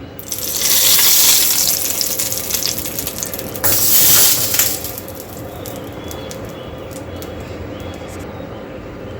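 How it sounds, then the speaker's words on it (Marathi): A loud burst of sizzling hiss as hot tempering with curry leaves hits a red tomato chutney, flaring again briefly, then settling into a quieter crackle with scattered pops. "आता या चटणीमध्ये आपण ही फोडणी ओतून घ्यायची आहे"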